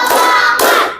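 About a second of hand clapping from a classroom group: two dense bursts of claps, loud and close, with no talking.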